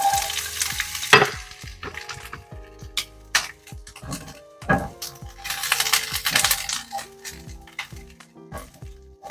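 Diced onions hit hot avocado oil and fry with sharp crackling sizzle, punctuated by clinks and scrapes of a utensil against the pan in irregular bursts, close and fairly loud.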